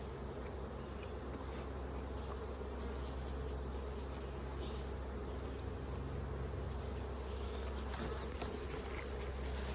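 Honey bees swarm around an opened hive, producing a dense, steady buzzing drone that fills the scene, close and constant with occasional louder passes of single bees near the microphone.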